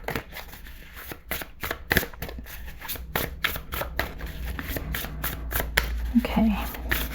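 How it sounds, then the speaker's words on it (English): Close, rhythmic riffling of cards being shuffled repeatedly, crisp flicks in quick succession. "You can shuffle it really well."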